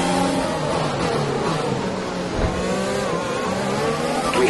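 F1 race cars in the F1 2020 game at the Azerbaijan Grand Prix, engines revving and downshifting hard under braking, a loud close whine with gear changes and no voices.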